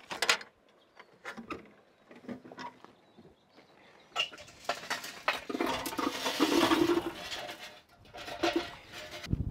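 Lit, ashed-over charcoal coals poured into the chute of a gravity-fed smoker, a scattered clatter of knocks giving way to a sustained rattling, tumbling rush that swells loudly in the middle and trails off with a few final clunks.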